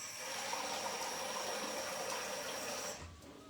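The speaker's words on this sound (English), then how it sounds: "I want to add water here so I can keep it moist" Water pours over raw chicken pieces for a home cast-iron fry, a continuous gushing splash heard close and fairly quiet that runs a few seconds before cutting off abruptly.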